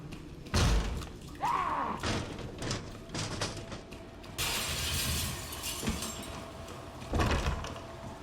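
Dark, sparse ambience inside the Raccoon City police station in the video game Resident Evil 2: low hum with scattered thuds, creaks and clattering bumps, no music, a brief sweeping whine near the start.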